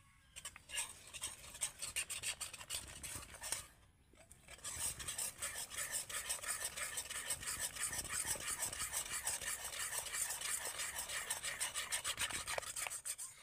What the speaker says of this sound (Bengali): এবার জলের সাথে কিন্তু দুধটাকে খুব ভালো করে মেশাতে হবে